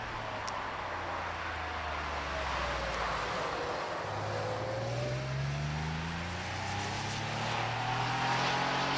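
A Martini-liveried 3-litre Porsche 911 race car sits at the Prescott hillclimb start line, its engine droning loud and steady, with tones that climb and slide as it revs continuously throughout.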